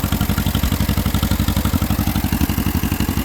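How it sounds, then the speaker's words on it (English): An old John Deere tractor engine runs close and loud, its even, rapid chugging pulse holding steady throughout. "Yeah, it's running good, the old John Deere."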